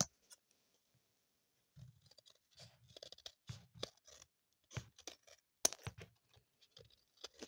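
Scissors snip paper for a scrapbooking project, giving quiet, close, irregular clicks and cuts. After a silent start the snips come in short clusters, with no talking.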